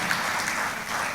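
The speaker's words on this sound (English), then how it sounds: "deserve a round of applause." An audience at the opening ceremony of an annual law conference applauds in a steady, dense wash of clapping that fills the whole moment without a break.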